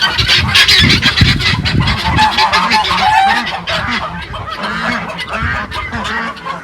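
Loud, dense honking and quacking from a flock of ducks close by on a farm, overlapping continuously with raucous calls.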